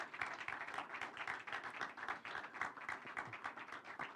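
Scattered clapping from an audience at a virtual graduation ceremony, a steady uneven patter of hands held at a faint, distant level.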